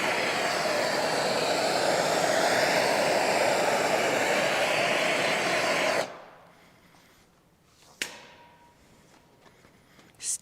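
A torch roars with a loud, steady hiss for about six seconds while heating car window tint film on a Ford Fusion, then cuts off, leaving quiet room noise with a brief click and a short burst near the end.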